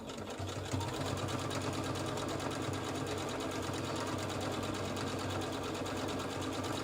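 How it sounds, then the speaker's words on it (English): A sewing machine stitches continuously at steady speed, a dense rapid mechanical chatter heard up close with no talking. "Now I am going to put my needle down and I am going to sew."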